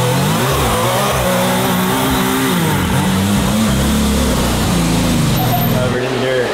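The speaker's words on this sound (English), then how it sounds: "This is a shakedown of the brand new Can-Am Maverick R." A brand-new 2024 Can-Am Maverick R UTV on a dirt shakedown, its engine revving loud and close with a steady, rising and falling harmonic roar that fills the whole stretch.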